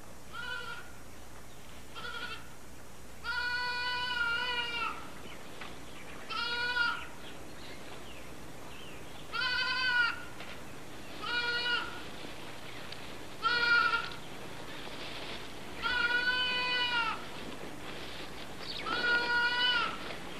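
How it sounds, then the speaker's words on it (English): A goat from a flock in Sasan Gir National Park bleats repeatedly, about eight wavering calls spaced a couple of seconds apart, loud and near against a faint steady hum. "the odd goat does wander off from the flock now and then"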